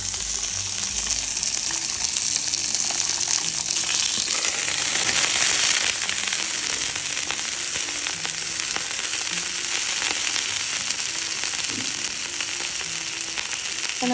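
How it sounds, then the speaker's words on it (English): Dosa batter sprinkled with chopped palak leaves cooks on a hot pan for an Udupi instant dosa, giving a steady, loud sizzle and frying hiss that runs throughout with no talking. "So we pour the batter for that and we sprinkle the palak or whatever leaves that we have cut."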